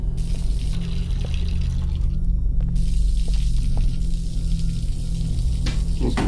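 In the video game Observer, a tap pours out a continuous, loud rush of water that stays even from start to finish, with only faint incidental game sounds and no clear speech over it.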